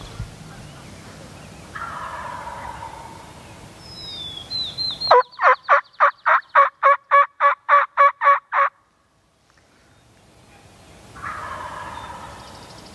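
A wild turkey tom gobbles in a rapid rattling series of about a dozen pulses, with softer distant gobbles before and after in an open outdoor setting on Michigan public land.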